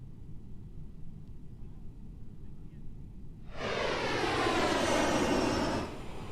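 In Microsoft Flight Simulator, a CRJ-700 jet descends with a dull, steady engine drone in the cabin. About halfway through, a louder rushing airflow surges in and then eases off.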